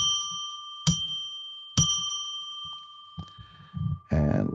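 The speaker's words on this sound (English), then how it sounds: "Let's ring a bell 3 times to declare sacred space" A bell struck three times to open a live psychic radio broadcast, each ring bright and sustained with long ringing overtones, the strikes spaced about a second apart, followed by faint low talk at the end.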